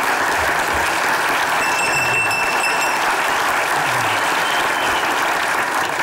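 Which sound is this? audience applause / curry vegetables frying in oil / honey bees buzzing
audience applause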